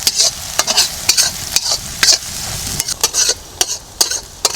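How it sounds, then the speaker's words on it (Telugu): Curry leaves, onion pieces and green peas frying in a pan, loud close crackling sizzle punctuated by repeated sharp scrapes and clinks of a spoon stirring, no talking. "కరివేపాకు, ఉల్లిపాయ ముక్కలు, గ్రీన్ పీస్ కూడా వేస్తున్నాను. బాగా వేపుకోవాలండి ఇవి."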